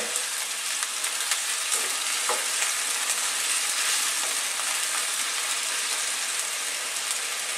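Tomato sauce or ketchup stirred into a sweet and sour sauce frying in a pan, a dense, even sizzle with faint scrapes of a spoon, steady and close throughout.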